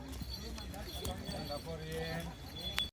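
Clip-clop of horse hooves walking on hard ground at Mount Bromo, Indonesia, irregular steps from several animals, with people talking faintly in the background.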